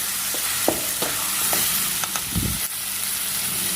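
Chicken sukka with garam masala stirred in a pan, a steady close sizzle with repeated scraping strokes of the spoon against the pan at an uneven rhythm, no talking.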